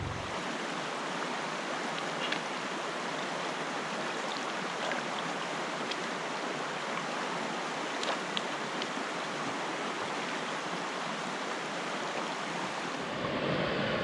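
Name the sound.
water washing miner's moss matting out in a gold pan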